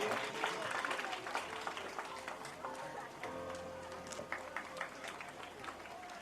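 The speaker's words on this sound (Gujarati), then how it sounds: "તાળીઓથી આપણા સ્વાગત સન્માનને વધાવીએ" A crowd applauds at a primary school anniversary ceremony, dense continuous clapping with a faint voice under it.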